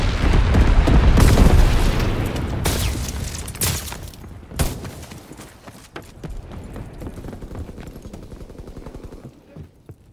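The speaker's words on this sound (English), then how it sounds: "Low altitude bomber inbound, dropping incendiary." A low-altitude bomber dropping incendiary bombs in the WWII shooter Call of Duty WWII: heavy rumbling explosions at first, then sharp blasts and crackling gunfire that fade into a scattered battlefield din.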